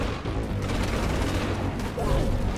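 Continuous rapid gunfire from the looter shooter video game Outriders, a thick, loud, unbroken barrage of shots.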